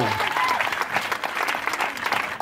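Congregation clapping in church during a French-language worship service, dense steady applause that fills the whole stretch at a loud, even level, with voices mixed in under the clapping.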